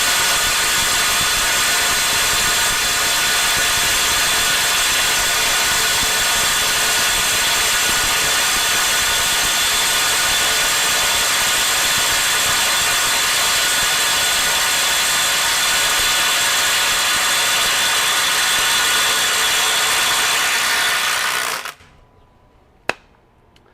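Skil IW6739 20V brushless 3/8 inch impact wrench hammering continuously at full power for about twenty seconds, a loud dense rattling whir that stops abruptly, followed by near silence and a single faint click.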